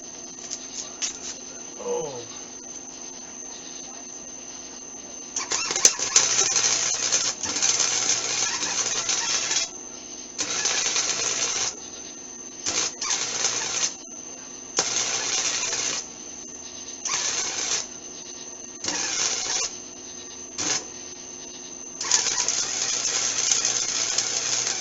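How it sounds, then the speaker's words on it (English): Arc welding on a golf cart motor plate: repeated bursts of crackling, buzzing weld sound separated by short pauses, over a steady background hum, close and fairly loud. "Let's go ahead and get this welded up"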